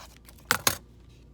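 Scissors snipping green paper for a paper towel roll owl craft: two quick, crisp cuts close together, close up and short, with no voices.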